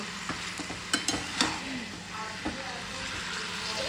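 Chicken is sautéed in a pan with a steady sizzle, and a spatula stirs it with a few sharp scrapes and knocks early on. The sound is close and moderately loud and continues alone without talk.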